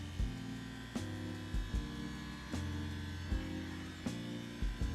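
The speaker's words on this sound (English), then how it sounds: "Turn the speed up on my Andis Super ZR2s." Andis Super ZR2 hair clippers running at high speed during free-hand afro shaping, a steady low electric hum and buzz close by, with the pitch shifting and brief bumps as the blade meets hair, no speech.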